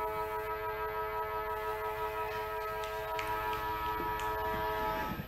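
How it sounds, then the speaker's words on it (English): A long, sustained quarter-time siren at a VFLW football ground blares with steady tones throughout, loud and unbroken, with faint crowd noise and a few clicks underneath. "after the longest siren in the history of football"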